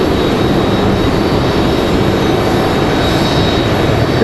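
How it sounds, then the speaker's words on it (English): A Boeing 757 jet airliner arriving from Atlanta roars steadily and loudly at an airport, a constant broadband engine rush with a faint high whine and no break in the sound. "Here comes our 757 from Atlanta, Georgia."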